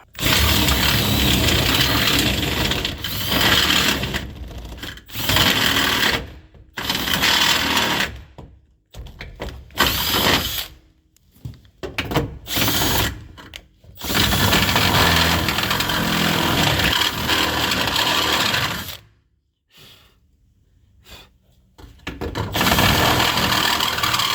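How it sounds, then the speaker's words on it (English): Power drill boring a hole through the steel seat frame of a 1955 Dodge, loud sustained whining runs broken by several short pauses and one longer gap before resuming. "So I'm going to go ahead and drill a hole right there."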